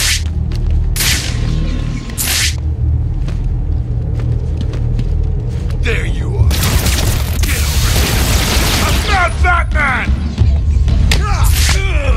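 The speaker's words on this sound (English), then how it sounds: "The only way to destroy it is to use explosive gel." Explosive gel detonating on a Titan container in Batman: Arkham City, a deep booming blast with heavy low rumble and debris clatter amid continuous game noise, with sharp whooshes and mechanical clanks around it.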